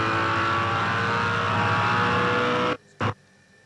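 A 2007 V8 Supercar races out of the pit lane exit on new rear tyres, its loud engine roaring steadily before cutting off abruptly, followed by one brief burst.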